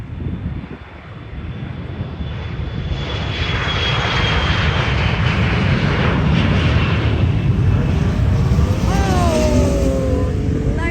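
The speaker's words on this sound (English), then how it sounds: "Oh, like the Airbus 220 JetBlue." JetBlue Airbus A220 airliner taking off, its jet engines swelling from a whine into a loud sustained roar that stays close and powerful, with rising and falling tonal whines near the end.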